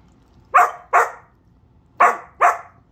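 An Old English Sheepdog barks four times nearby, two quick barks, a short pause, then two more, loud and distinct.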